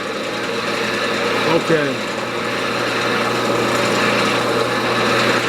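A wood lathe spins a camphor hollow form while a tool starts cutting off the tenon, giving a steady motor hum with a brief scraping rise near the middle and a quick spoken word.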